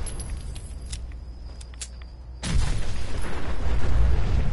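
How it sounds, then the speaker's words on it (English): A car blows up in Fallout 4's Far Harbor, a sudden loud blast about halfway through that rolls into a sustained, roaring rumble, following a quieter stretch of game ambience with small clicks. "let's blow up a car and then get out of here."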